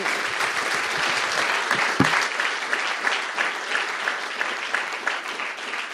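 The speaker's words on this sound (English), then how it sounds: "Everyone, please give Cecília a nice round of applause." An audience at a live talk-show taping at the Danube Institute gives steady, full applause, a dense wash of many hands clapping evenly for several seconds with no voices over it.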